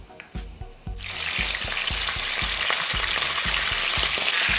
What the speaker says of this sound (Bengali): মিনিট 2 ভাজার পর মাংসটা দিয়ে দিচ্ছি।